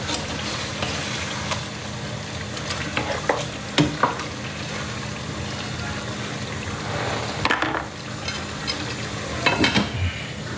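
Food sizzles and fries steadily in a pan while a utensil stirs and scrapes it, with occasional louder clatters over a continuous crackling hiss; no one speaks.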